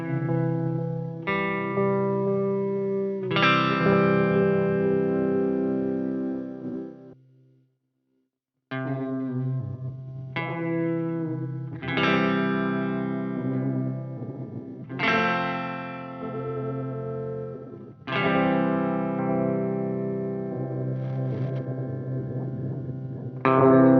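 Electric guitar notes plucked in phrases through a Blind Panic Devices Dilithium Delay pedal, each trailing into repeating delayed echoes with a wavering, shimmering modulation; one brief silence in the middle.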